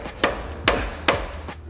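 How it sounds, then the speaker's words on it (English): A CV axle being knocked back into place on an off-road vehicle during a trail repair, with three sharp, evenly spaced metallic impacts close by, each ringing briefly, and no speech. "we're gonna pop it back in and put it back together properly"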